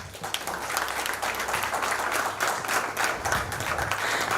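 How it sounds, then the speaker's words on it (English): Steady applause from an audience welcoming a guest at a felicitation event, dense clapping filling the whole stretch at an even loudness with no talk over it. "Please welcome Mr. Prashant Deshmukh with a great round of applause."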